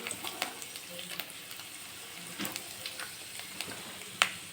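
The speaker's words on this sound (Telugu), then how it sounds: "ఫస్ట్ ఇలా రెడ్గా అయ్యే వరకు ఫ్రై చేసుకోవాలండి ఆయిల్లో" Chana dal, urad dal, peanuts and dried red chili fry in hot oil, a close crackling sizzle dotted with repeated scraping stirs and a sharp clink near the end.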